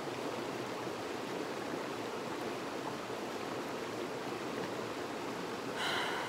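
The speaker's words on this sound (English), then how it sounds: "just bring your attention back to the sound of the water." Steady, soft rush of flowing water like a stream, continuous broadband hiss without breaks, fairly faint and unaccompanied by voices.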